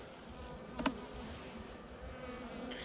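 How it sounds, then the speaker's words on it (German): Honeybees buzz steadily inside a weakened, undersized hive colony, a close continuous drone with one brief louder burst near the start. "Da oben sind noch Bienen drin."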